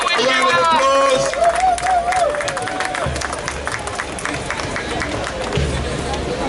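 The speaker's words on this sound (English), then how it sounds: "give our brother a round of applause." Crowd at an outdoor emancipation and reparation march in London clapping and cheering, a dense, loud roar of hands and voices with shouts rising over it and a continuous hubbub throughout.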